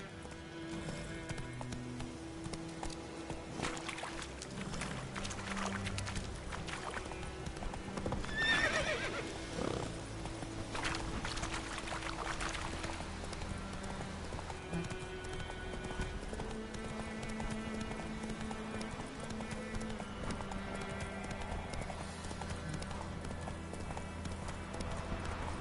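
Roach the horse in The Witcher III trotting with steady clip-clop hoofbeats and whinnying, under continuous game music.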